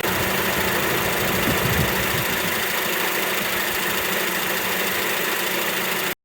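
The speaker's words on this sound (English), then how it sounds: "While the engine is running, we want to make sure the tension is not moving around." A 2005 Acura TSX engine idles steadily under the open hood, a constant dense mechanical hum and whir with slight knocking texture, close and unbroken before cutting off abruptly at the end.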